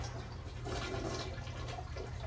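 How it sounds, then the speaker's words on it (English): A bathroom toilet flushes with a steady rushing, gurgling surge of water, heard alone from start to finish. "flush the toilet"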